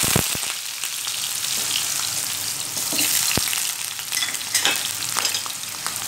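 Potatoes frying in a pan for an aloo baingan sabzi, a steady close sizzle with sharp crackles and a few stirring clicks, no voices.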